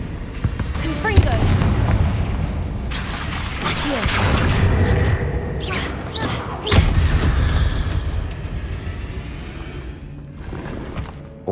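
Confringo spell explosions in the video game Hogwarts Legacy, heard as several loud booming blasts and thuds at irregular intervals over game ambience.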